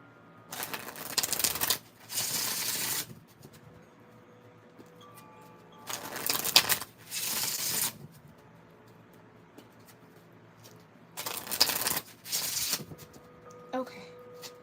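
Tarot cards being riffle-shuffled up close in three bursts, each a quick pair of crisp fluttering riffles separated by quiet pauses.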